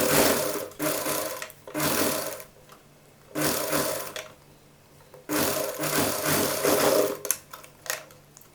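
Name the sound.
sewing machine stitching a children's Patiala dress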